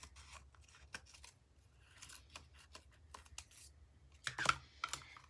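Scissors snip through paper to cut a giraffe's mane, making a series of quiet, close, crisp clicks at an uneven pace, ending in a slightly louder cluster of cuts.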